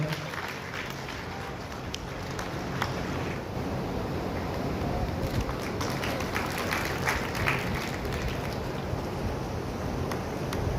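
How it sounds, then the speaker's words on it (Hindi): An audience at a talent award ceremony applauds in a dense, continuous wash of clapping, heard somewhat distant and muffled with a rough, noisy background throughout. "जोरदार तालियों से स्वागत करिएगा।"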